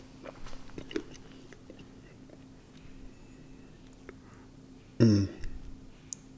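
Someone chews gum close to the mouth, making soft, sparse, moist clicks and smacks, with one louder wet burst near the end.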